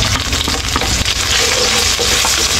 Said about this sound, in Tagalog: Hintayin natin mag-golden brown yung bawang sibuyas.